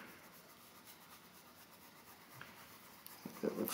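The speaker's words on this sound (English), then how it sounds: "I'm going to change my mind and erase those middle lines there." An eraser rubs pencil lines off paper in a steady, soft, close scrubbing, then firmer strokes and a few louder brushing sounds near the end, with no talk.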